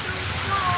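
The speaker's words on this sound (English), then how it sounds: "right now we are passing the largest man-made waterfall" Broad, steady rushing roar of the largest man-made waterfall in Bricktown, Oklahoma, passed at close range, with a faint voice mixed into the constant outdoor water noise.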